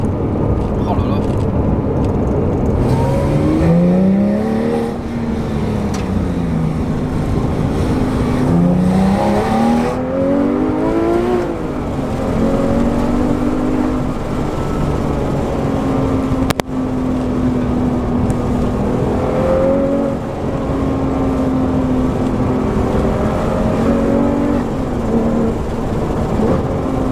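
The engine of a Porsche 911 R revs up through the gears with rising and falling tones and a brief shift break, steady and loud inside the cabin, while a voice speaks over it.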